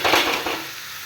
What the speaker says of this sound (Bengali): এবার আমার সিদ্ধ করা লাউটা এর মধ্যে দিয়ে দেবো